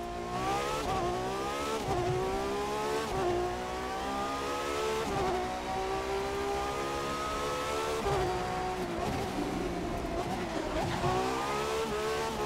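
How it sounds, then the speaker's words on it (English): A Ferrari FXX K race car engine in The Crew 2 roars loudly and continuously, its pitch climbing and dropping repeatedly through gear changes at high speed. "Sounds just like a race car should."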